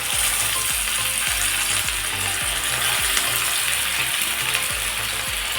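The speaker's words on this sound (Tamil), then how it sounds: "மீனை பொரிச்சிருவோம்." Vera fish frying in hot groundnut oil on a stove, a steady loud sizzle with a repeated rhythmic clicking ticking underneath, no talking.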